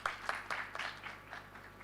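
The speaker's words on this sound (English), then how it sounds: "Clap for him." Conference audience at a disability-inclusive higher education event clapping for a speaker, a quiet, thin round of claps that starts with a few sharp hits and fades quickly.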